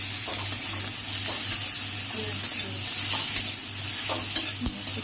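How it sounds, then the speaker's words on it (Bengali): Ground turmeric and cumin fry in a pan and are stirred for a Bengali fish curry. A steady close sizzle hisses throughout, with a low hum underneath and occasional light scrapes of the spatula. "একটু হলুদ দেবো, হলুদ গুঁড়ো, জিরে দিয়ে একটু নেড়ে নিলাম।"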